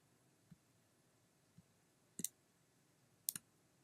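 Mouse clicks on a computer during image editing with the Alt key held, a few sharp, faint clicks spaced out and heard alone in a quiet room.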